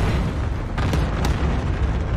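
A cluster strike in a Call of Duty match rumbles as a low, continuous bed of explosions, with two brief sharp impacts cracking through a muffled booming roar.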